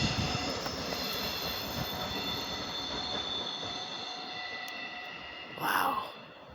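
A train led by a Class 67 diesel locomotive runs through Sevenoaks station with a loud, steady rolling rumble and high wheel squeal throughout, then a brief brighter screech near the end.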